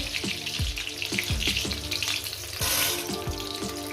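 Garlic frying in a pan for a fish and greens bharta, a loud close sizzle and crackle with a rush of spattering near the end, no voices.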